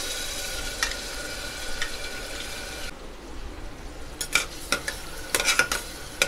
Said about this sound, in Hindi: तेल गर्म हो चुका है, हम इसमें हमारे प्याज को डालेंगे, जिसे हमने मोटा मोटा पीस लिया है